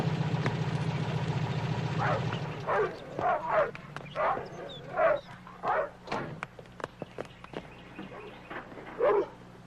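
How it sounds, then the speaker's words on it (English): Doberman dogs bark in a series of loud, close barks over a steady low engine-like hum, with a rougher noisy passage at the start and irregular bursts spaced through the rest. "Those are dogs."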